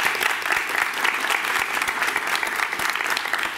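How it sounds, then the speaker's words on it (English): A studio audience at a panel discussion on sex applauds to welcome a guest, a bright, brisk burst of many hands clapping, loud and even throughout with individual claps poking through. "Give her a round of applause."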